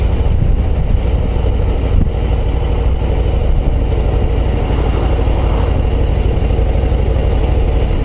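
Harley-Davidson Road Glide ST bagger with its 117 engine pulling steadily at low revs in fourth gear, a continuous close, loud rumble with no break, no talk over it.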